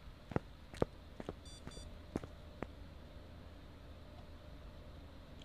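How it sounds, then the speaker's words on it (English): Two quick runs of faint, high electronic beeps from a wristwatch, surrounded by scattered soft knocks and clicks in a quiet room. "That was my watch beeping."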